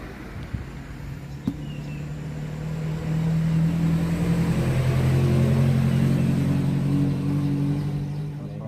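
Thunder during heavy morning rain beside a fishing pond, a long low rumble that builds after a few seconds, holds steady and slowly fades, fairly loud, over a background hiss, with no talk.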